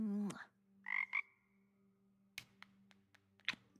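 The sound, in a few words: frog croaking in a video game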